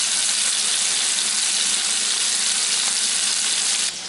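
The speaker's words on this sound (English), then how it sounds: "And I'm just frying this in the bacon grease." Food frying in bacon grease in a home kitchen pan, giving a steady, loud, close sizzle that runs unbroken and drops slightly at the end.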